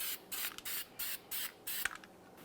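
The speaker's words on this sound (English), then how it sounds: "Let's use some anti-seize on the mating surface." Anti-seize is sprayed onto the brake rotor mating surface of a 1999-2006 Chevrolet Silverado 1500 in five short, close hissing bursts with brief pauses between them.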